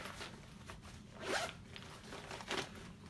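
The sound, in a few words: zipper being opened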